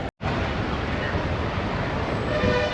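A train runs along the railway in Kandy, Sri Lanka, producing a loud, continuous rolling rumble with rail clatter after a brief silent gap at the start.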